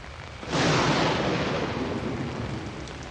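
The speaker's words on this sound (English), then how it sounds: "Lightning noises." Thunder and rain in the horror video game Outlast. A loud crash breaks in about half a second in, then settles into a steady, roaring wash of storm noise with no voices.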